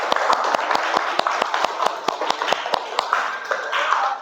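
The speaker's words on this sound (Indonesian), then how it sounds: "Tepuk tangan untuk diri kita sendiri." A classroom of students applauds together, a steady run of close, rhythmic hand claps continuing without a break, with faint voices mixed underneath.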